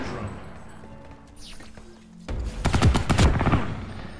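Gunfire in the shooter game Ghost in the Shell: First Assault, rapid automatic bursts erupting loudly after a quieter stretch of game ambience, dense and close for the last two seconds.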